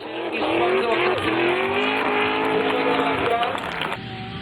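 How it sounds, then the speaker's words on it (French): A Nissan with a Corvette LS3 V8 drifts at a race event, the engine roaring loud and close with rising and falling revs while the tires squeal continuously. "comme vous pouvez l'entendre, un moteur LS3 V8 de Corvette dans cette Nissan. Ça fume de l'angle, de la ligne, de la vitesse"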